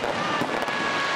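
A Victory Day fireworks salute at the Sochi seaport's southern pier crackles as one dense, continuous burst of popping, heard at a distance.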